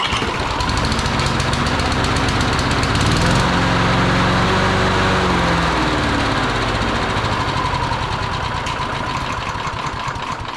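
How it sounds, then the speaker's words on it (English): A repaired Honda four-stroke Easy Start lawn mower engine running at a steady, loud, close drone with a fast, even pulsing beat for the whole stretch. No voices. "It's time to see if the Easy Start Honda is easy to start once"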